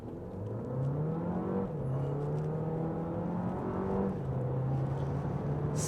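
A 2024 Alfa Romeo Tonale pulls away hard from a dead stop on an empty straightaway, its engine note rising steadily, easing briefly at a shift, then climbing again, heard from inside the cabin.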